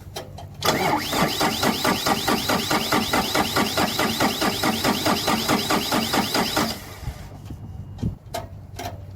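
Starter cranks the diesel engine of a broken-down 120 compactor roller in a rapid, loud, steady rhythm for about six seconds, then stops, leaving faint clanks and low background hum.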